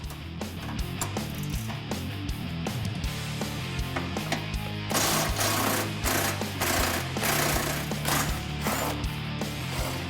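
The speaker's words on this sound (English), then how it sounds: "Remove the 2 21mm nuts securing the mount to the cross member." Mechanical ratcheting and whirring come from removing 21mm nuts that hold the transmission mount to the cross member on a 3.5L EcoBoost Ford F-150, close and continuous with a brief pause, no talk.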